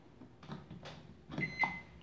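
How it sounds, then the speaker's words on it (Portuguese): A Consul microwave oven's control panel gives a couple of short electronic beeps amid faint handling noise, close and fairly quiet. "Bipou, vocês estão vendo que aciona o painel."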